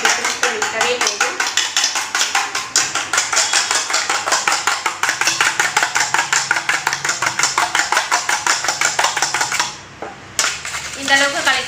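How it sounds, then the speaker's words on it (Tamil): Eggs being beaten by hand in a bowl, a fast, steady run of loud clicking whisk or fork strokes against the side, pausing briefly near the end before resuming. "முட்டையை உடச்சி ஊற்றிட்டு நல்லா அடிச்சுக்கலாம்"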